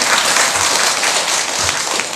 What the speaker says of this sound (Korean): 이럴 때 박수 안 치시고 뭐 하십니까?